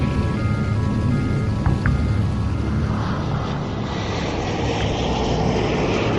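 Soviet bomber aircraft engines at the Tushino Air Parade during the Cold War era make a steady, heavy droning roar that fills the whole stretch, with faint higher tones drifting over the rumble.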